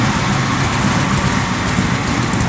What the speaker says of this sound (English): Let's hear the nice little rumble in the back.